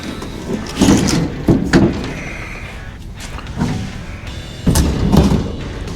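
A stuck car door on a Mach 1 Mustang being forced open in a workshop, several loud thumps and rattling bangs in bursts with quieter gaps, no talk.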